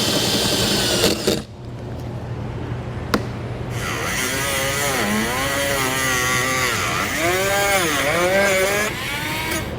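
A power cutting tool bites into the corners of the rear bumper fascia on a 2018 Chevrolet Volt, a loud buzzing whine that briefly stops, restarts, and then wavers up and down in pitch as the cut progresses.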